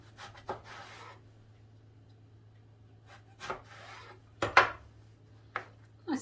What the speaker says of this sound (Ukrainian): І тепер ріжемо на кусочки десь міліметрів по 5-7. І отак розрізаємо.